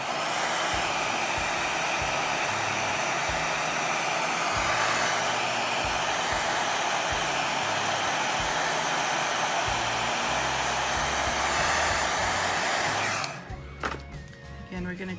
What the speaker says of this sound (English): get the blow dryer again and dry this quick